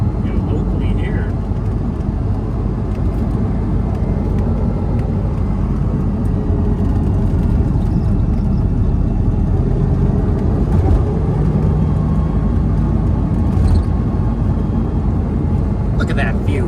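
A Ferrari Testarossa cruising on local roads, its engine a steady low drone under a broadband rush of road and wind noise, with people talking inside the car.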